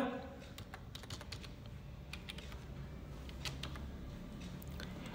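Typing on a computer keyboard while entering a GST number into an e-way bill form: steady, close key clicks that run the whole time over a constant low background hum.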